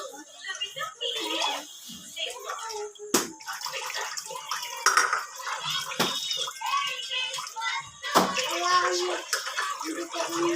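Water splashes and pours during a child's bath as soap is rinsed off the back, with irregular sloshing and slapping close by, mixed with an adult talking to the child throughout.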